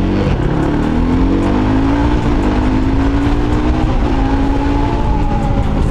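A quad bike is ridden fast on the road, its engine droning and rising steadily in pitch as it accelerates, loud and close with constant rushing road noise.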